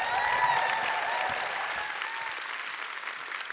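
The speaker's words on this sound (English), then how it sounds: "So give it up for Unn Swanström." Audience applause at a tech conference, a steady wash of clapping filling the room from the start and slowly tapering off over a few seconds, with no voices over it.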